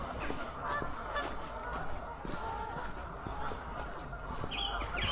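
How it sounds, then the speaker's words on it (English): Geese honk repeatedly in open countryside during a walk, their calls carrying through a breezy outdoor hum while a person speaks nearby. "Despite the geese going on, it is lovely."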